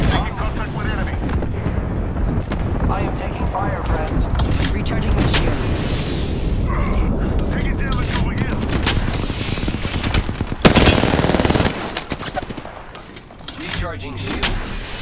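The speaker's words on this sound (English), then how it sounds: "I'm getting shot." Rapid gunfire in the Apex Legends battle royale on the Kings Canyon map, loud and dense with bursts running almost without pause, then a sharp spike and a brief dip near the end.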